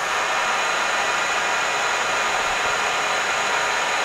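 Used Summit LE-1500 lathe running at 1500 RPM gives off a loud, steady, even whir with a high machine whine and broad hiss, unchanging throughout with no voices.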